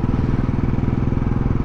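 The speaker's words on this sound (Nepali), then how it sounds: "आज मैले के नभने 40-50 वटा राइडर्स बाइकहरू चाहिँ गएको देखिसकेँ" Close, loud throb of a motorbike engine running with a quick regular pulsing beat, steady from start to finish, no talking.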